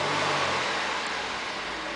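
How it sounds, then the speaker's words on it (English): A 2008 Ford Edge Limited SUV engine revs in a steady broadband roar that holds loud and close, easing slightly toward the end, with no talk over it. "I'm going to go ahead and rev it."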